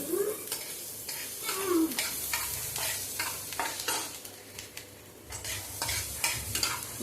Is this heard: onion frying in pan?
yes